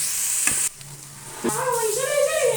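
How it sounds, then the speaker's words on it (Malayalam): Ginger, garlic and green chilies stirred while frying in a pan, a steady close sizzle with a brief scrape of stirring and a short dip partway through. "കുറച്ച് ഇഞ്ചി, വെളുത്തുള്ളിയും പച്ചമുളകും ഇട്ട് അതിനെ നല്ലതുപോലെ ഇളക്കി"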